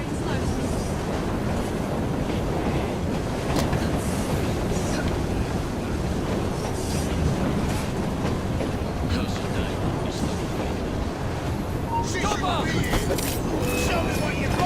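Steady rumble of a moving train in the Assassin's Creed Syndicate video game, continuous and fairly loud throughout, with rattling carriage noise and brief higher clanks near the end while a voice speaks over it.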